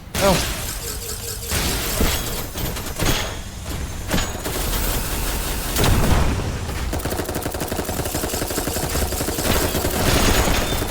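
Gunfire in the video game Dolls Nest: a dense, continuous barrage of rapid shots and crackling impacts, loud and close, with a voice talking over the shooting.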